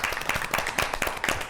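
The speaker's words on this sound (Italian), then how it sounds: "Un bel applauso." An audience claps in a broadcast studio with dense, rapid, overlapping claps that stay steady throughout, close and moderately loud, with no talking over them.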